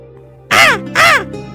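A cartoon crow perched in a tree gives two loud, harsh caws in quick succession, close and clear over a quiet background.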